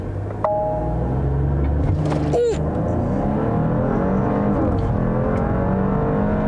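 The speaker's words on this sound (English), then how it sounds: "Now, because it has the Sport Chrono package, this does have launch control." A 2020 Porsche Cayenne Coupe with the Sport Chrono package making a launch control start, a brief click and then a loud, sustained engine roar climbing steadily through the revs from inside the cabin.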